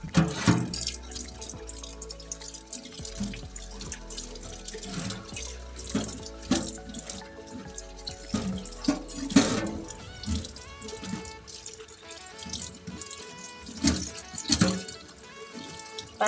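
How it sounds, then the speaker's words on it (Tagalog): Beef innards washed under a running tap, steady splashing water into a sink with repeated sloshes, drips and handling noises, close and alone. "Tapos, hugasan natin ulit"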